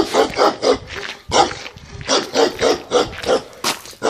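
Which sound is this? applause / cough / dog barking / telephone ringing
dog barking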